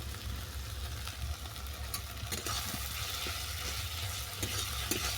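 Gourd peel fries in a pan with dried chili powder and spice paste, a soft continuous sizzle with scattered crackles and occasional stirring scrapes, heard close and alone.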